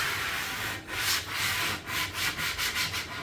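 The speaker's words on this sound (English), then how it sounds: "is getting rid of any excess filler now and smoothing it off, making sure we get a nice round edge." Someone hand-sands excess filler off the rounded edge of an MDF board, making steady close rubbing strokes with a rhythmic back-and-forth pulse. No one speaks.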